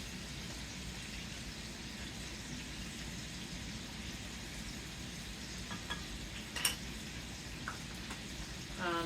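Pork and cabbage frying in a wok with jarred garlic, a soft, steady sizzle running throughout with a few light scraping stirs and clinks near the end.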